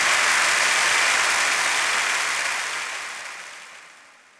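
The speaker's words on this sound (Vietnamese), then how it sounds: "Xin quý vị cho một tràng vỗ tay đi cổ vũ tinh thần của bạn Vân Anh được không ạ?" Applause for a singer at a wedding hall, a dense wash of clapping from a large crowd that holds strong, then gradually fades away.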